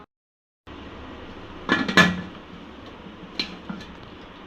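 A lid set down over a pan of homemade rava cake gives a clattering metal clank with a second knock, close up and alone, then a couple of lighter taps.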